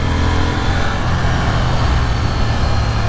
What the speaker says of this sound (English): It's a small, compact little parallel twin